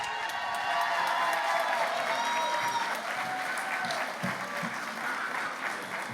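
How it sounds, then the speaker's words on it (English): Warm applause at a charity gala dinner, a full room clapping steadily and loudly with a few cheers, tapering slightly after a few seconds. "please continue the warm applause for the President and CEO of Miriam's Kitchen, Scott Schenkelberg."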